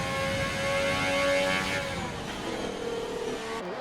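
A race car lapping Monaco in an RSF1 racing league video game, a steady near engine whine with shifting tonal pitch, heard alone throughout.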